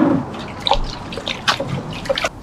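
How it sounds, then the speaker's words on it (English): Soft watery swishing and dribbling as a chafer grub nematode packet is stirred around in a container of water, gentle irregular sloshes close by with no talk. "I'm going to give that a good stir."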